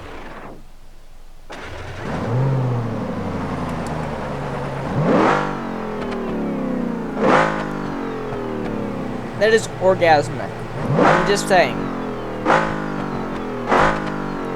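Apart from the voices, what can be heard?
truck engine revving in video game BeamNG.Drive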